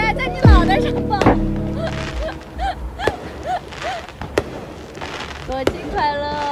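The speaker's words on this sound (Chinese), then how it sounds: "烟花" Fireworks burst at a holiday celebration, with a rising whistle followed by several sharp cracks and booms spread across the scene, some near and loud, others softer, while people talk and exclaim nearby.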